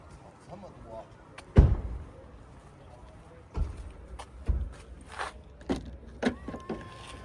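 An Aito M7 car's powered doors open automatically, with a thud, a soft electric motor whir and a few clicks and knocks close by, while people talk faintly in the background.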